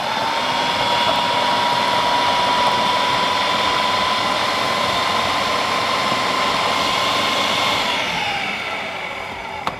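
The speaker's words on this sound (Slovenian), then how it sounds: "Tole zadevo moramo preprosto zmiksati v eno tako pasto." A blender purees an onion pâté mixture in a loud, steady high-pitched whir that runs nearly ten seconds before winding down at the end.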